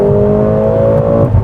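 A 2021 Mercedes-AMG GLA 45 mini SUV pulls hard in third gear, its engine note a loud, steady rising drone close by, with no talking.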